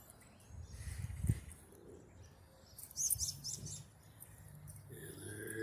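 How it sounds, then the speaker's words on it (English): Robins, starlings and cedar waxwings feed in a small tree in a city park, giving faint, scattered chirps and calls over a low rumble of background noise. "So it looks like we got robins, starlings, cedar waxwings."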